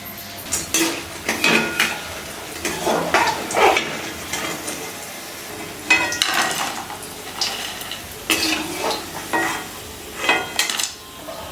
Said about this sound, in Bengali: রান্না হয়ে গেছে, এখন গামলাতে ঢেলে নেব।